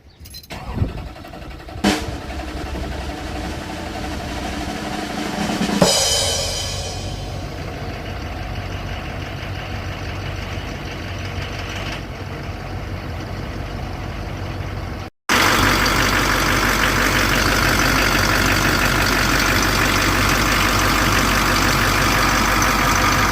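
A car engine cranks and catches near the start, then settles into a steady close idle with a brief rev bump around six seconds, before a louder, denser engine roar takes over for the final stretch.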